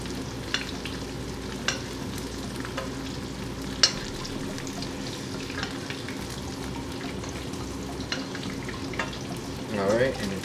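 Steak sizzles steadily in a pan as it is basted with butter, a continuous frying hiss with occasional soft clinks and spoon scrapes, close and moderately loud, with a burst of activity near the end.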